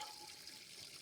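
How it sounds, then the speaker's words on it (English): Leftover water is poured onto garden soil beside a walkway, making a faint, steady, soft splashing hiss close by with no talking. "I'm just gonna put the rest this water here"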